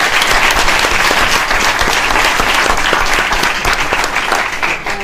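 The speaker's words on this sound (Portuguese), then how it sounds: "Uma salva de palmas para ela, não é?" An audience at a book launch applauds in a sustained, dense round of clapping that stays loud and even from start to finish with no talk over it.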